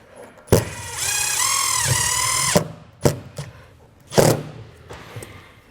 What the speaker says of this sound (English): We'll take the self-tappers that come in your kit and start screwing down our rail.